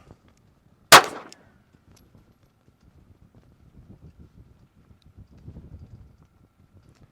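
A single sharp, loud report from an S&W Bodyguard pistol without the carry comp, standing alone near the start and followed by faint rustling and low background noise.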